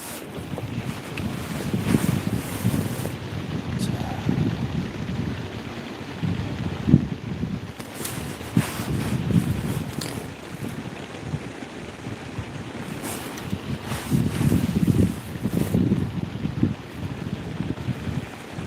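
Gusty wind blowing across an open seaside fishing spot at Sanggilpo, buffeting the microphone with a steady low roar that rises and falls in strong surges, with no talking.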